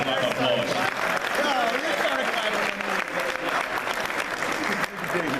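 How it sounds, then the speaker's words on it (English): Steady audience applause fills a career day event at Middle Township, honoring Mr. Joslin, with faint voices mixed into the continuous clapping throughout. "So let's give Mr. Joslin a round of applause."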